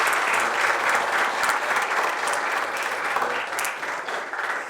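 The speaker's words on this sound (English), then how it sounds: "A big round of applause for our seniors." A student club audience at IIT Indore gives a round of applause for departing seniors: steady, full clapping from a room of people that carries on evenly throughout.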